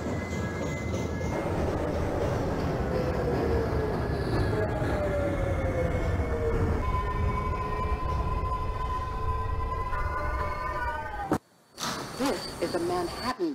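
A New York subway 2 train in the OpenBVE train simulator runs with a steady loud rumble and rising electric motor whine, then a brief dropout before the rumble resumes with a chime.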